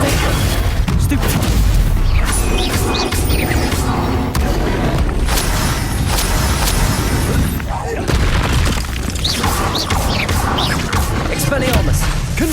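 Blasting-spell explosions from Hogwarts Legacy gameplay, loud booms and crashing impacts layered densely with spell effects and combat noise, continuous and dense throughout, with voices speaking over the din.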